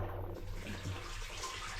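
Water flows out of a blocked drain being cleared on a farm, making a steady, moderately close rushing and trickling wash that continues evenly without pauses.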